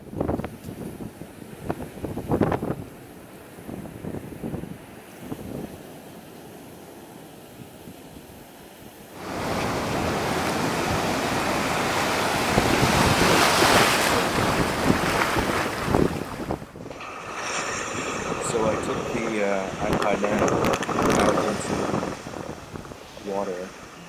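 Small one-to-two-foot waves break at a surf beach with a sandbar, a steady rushing wash heavily buffeted by wind on the microphone, with a person talking over it at times.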